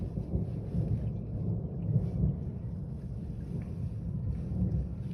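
Low, continuous rumbling thunder rolls through a thunderstorm in Ireland, steady and heavy with faint rain and wind noise, no voices.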